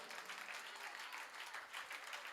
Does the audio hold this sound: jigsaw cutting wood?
no